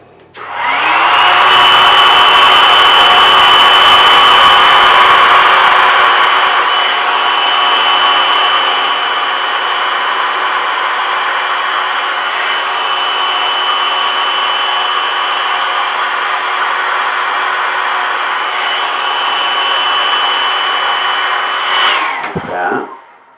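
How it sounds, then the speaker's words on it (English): A blow dryer whirs loudly and close for over twenty seconds, its airflow tone shifting slightly as it moves, then clicks off at the end. "follow along the underside of the beer with the, the uh, blow dryer"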